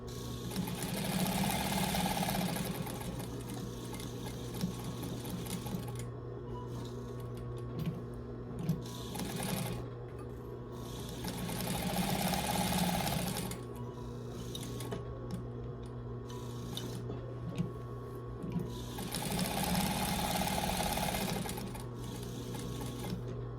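A sewing machine stitches through stacked fabric layers of a coaster, running in several steady bursts of rapid mechanical whirring separated by short pauses with faint handling noises.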